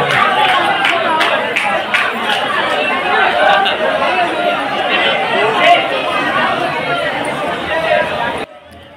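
Dense, loud chatter from a big crowd gathered at Garib Sthan temple in Muzaffarpur, a steady wash of overlapping voices all around that fades slightly at the very end.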